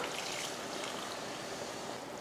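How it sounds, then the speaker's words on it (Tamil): Water runs steadily into a pot of country chicken curry, a continuous soft pouring hiss that stays even throughout, with no talking. "அடுத்து நம்ம தண்ணி சேர்த்துக்கலாம்"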